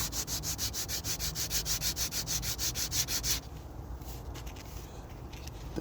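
Rhythmic back-and-forth scrubbing of sandpaper on wet wood, about sixteen even strokes close up, then quieter, softer rubbing with a few scattered scratches after the strokes stop.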